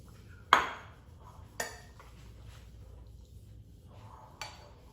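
Pasta is plated into a bowl in a home kitchen: a few separate clinks of utensil on dishware, the first the sharpest, then softer scrapes and taps with quiet gaps between.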